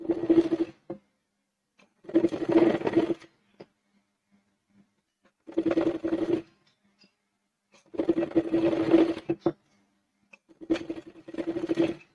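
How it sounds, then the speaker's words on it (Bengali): Sewing machine top-stitching a garment sleeve runs in four or five separate bursts of about a second each, with short quiet pauses between them as the fabric is repositioned. "চাপ সেলাই দিয়ে নেব উপর দিয়ে"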